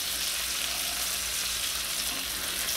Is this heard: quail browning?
yes